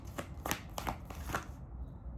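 A tarot card is drawn from a deck, giving soft papery slides and flicks, four or five quick rustles close to the mic, faint and with no talking.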